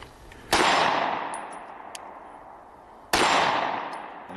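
Two loud, sharp shots from a SIG Sauer P365 SAS pistol fired one-handed at a steel target, each a crisp crack with a ringing tail that fades slowly, spaced a few seconds apart.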